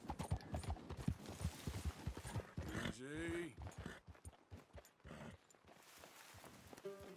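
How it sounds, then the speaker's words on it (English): Hooves clip-clop at a walking pace, then a horse gives a loud whinny, with muffled Red Dead Redemption 2 game sounds and bits of talk around it. "the horse making that loud noise"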